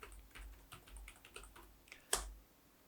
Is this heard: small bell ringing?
no